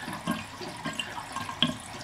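Water swirling and draining from a sink, with a soft continuous gurgle and small splashy bursts, close and fairly quiet.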